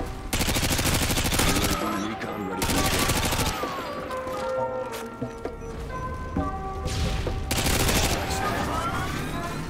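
Bursts of automatic gunfire from Call of Duty Modern Warfare 2 sound in several loud, rapid volleys separated by brief pauses, with smaller shots and crashes in between.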